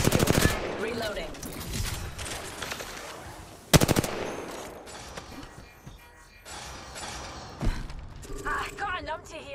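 Automatic gunfire in the battle royale game Apex Legends, with rapid bursts and sharp volleys repeating across the clip over busy mechanical game noise, the loudest burst striking about a third of the way in.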